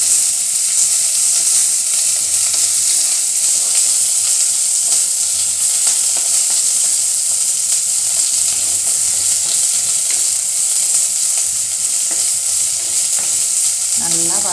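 Onion and green chili frying with curry leaves for an eggplant and potato kara kuzhambu, a steady loud sizzle with stirring scrapes throughout and a few sharper clinks near the end, no voices.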